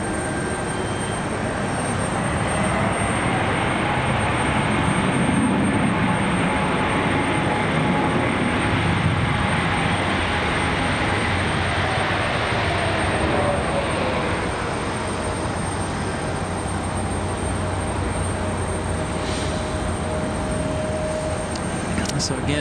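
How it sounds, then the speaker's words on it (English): JetBlue Airbus A220 rolling out after landing at Raleigh Durham airport, a broad steady jet engine roar with whine, heard from a distance and holding constant throughout, with faint voices now and then. "So there's our A220 safely down."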